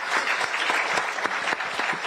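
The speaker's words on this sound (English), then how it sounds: "Please, a round of applause for KMB." Audience applause at a school event, brisk and dense clapping at a steady level from start to finish.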